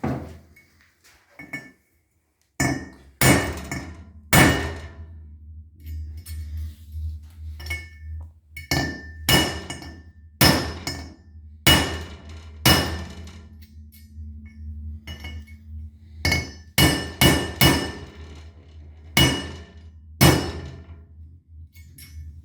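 Sharp metallic hammer strikes drive an alignment dowel onto a Subaru SOHC EJ25 exhaust valve. The blows come as a series of irregular, close, ringing taps, some in quick pairs, with no talk.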